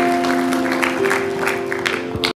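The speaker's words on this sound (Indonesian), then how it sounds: "Tepuk tangan buat Natal." A church congregation claps through a Christmas sermon, steady applause over sustained musical tones that cuts off abruptly at the end.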